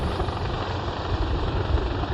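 A French Air Force military helicopter of squadron 167 Pyrénées, flying during a special operations commando exercise, gives a steady, loud, close rotor and engine roar that holds without a break throughout.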